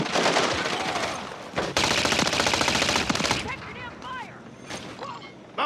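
Rapid automatic gunfire from Call of Duty Modern Warfare 3 multiplayer, loud sustained bursts with a brief gap, then lighter scattered shots and whistling effects as game voices call out in the background.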